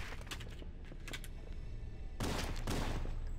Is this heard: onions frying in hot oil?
no